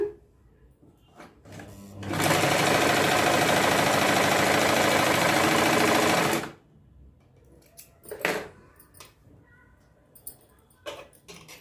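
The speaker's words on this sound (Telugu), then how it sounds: "ఇట్లాగా కుట్టు వేసేయండి ఇలాగా" Sewing machine stitching a heavy border onto a saree blouse, one steady whirring run of about four seconds, close and fairly loud, between quiet handling noises.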